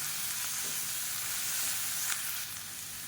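Onions sautéing in a pan for a vegetable gravy side dish, a steady broadband sizzle and crackle that holds evenly throughout, close and moderately loud with no talking.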